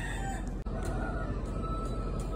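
A rooster crows while chickens cluck nearby in a backyard flock by a fence, the calls fairly faint and spread over a steady outdoor background.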